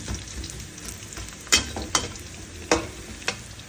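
Chopped onions and chillies frying in a pan, a continuous close sizzle broken by four sharp scraping clacks of a spoon stirring against the metal, no voices.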